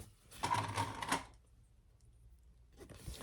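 A sewing machine stitches rows around the top of a fabric basket, a short quiet burst of fast whirring and clicking, then a pause and a brief restart.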